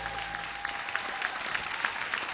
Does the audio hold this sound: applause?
yes